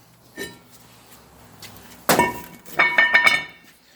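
A hammer strikes a stuck front brake rotor on a 2008 Nissan Maxima: one sharp, loud metallic crack, then a short run of ringing clanks, all close-up with no talking.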